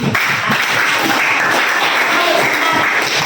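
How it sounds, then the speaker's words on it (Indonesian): A class applauding steadily in a classroom, dense clapping that stays loud and even from start to finish with no voices over it. "Baik, tepuk tangan."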